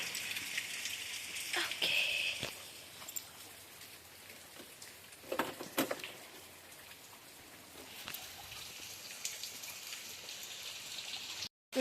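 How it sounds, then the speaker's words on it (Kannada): Heavy rain pours steadily outdoors in Kuttamuguru, a continuous hissing patter of drops on surfaces with a few louder splashes and taps, sustained without voices. "ಸಖತ್ತಾಗಿ ಮಳೆ ಬರ್ತಾ ಇದೆ"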